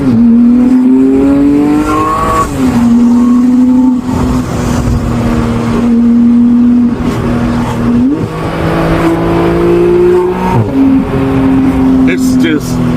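A Porsche 911 GT3 in sport mode revs hard and loud from inside the cabin, its engine note climbing through the gears with brief dips at each shift, while a person talks over it.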